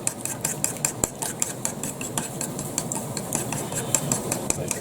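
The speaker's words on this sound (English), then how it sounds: "Now whisk" Ingredients for a breakfast roll are whisked together in a bowl, giving a rapid, uneven train of light ticking clinks and scrapes, close and moderately loud with no talking.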